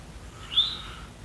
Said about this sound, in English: the bird making this call, even though it's nowhere to be seen, is rufous-sided towhee